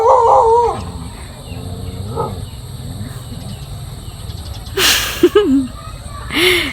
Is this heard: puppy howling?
yes